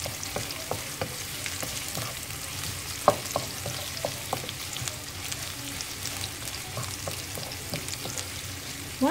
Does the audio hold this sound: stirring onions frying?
yes